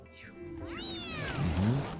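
Cats meow in the Mewgenics video game, a few rising and falling cries that are close and fairly clear, with a voice also making the sounds.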